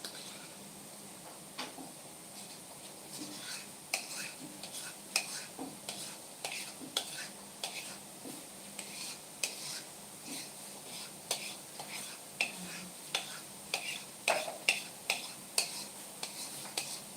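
A spatula scrapes a yogurt and mascarpone mixture out of a bowl, giving quiet, repeated scraping clicks and taps at an irregular pace over a faint background.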